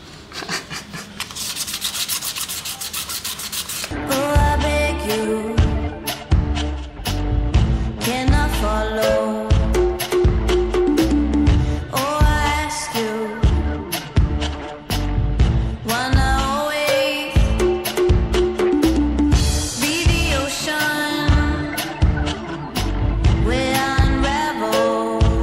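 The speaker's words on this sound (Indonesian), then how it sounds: "Jadi kayaknya udah selesai nih proses pengamplasan." Repeated scraping strokes of sandpaper rubbing by hand on a Vespa crankcase, steady and rhythmic, running under louder background music.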